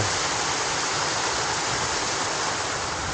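Fresh mountain water rushing steadily down beside a beach campsite in General Nakar, Quezon, a loud, continuous broadband roar like a strong stream or small waterfall, close by with no breaks.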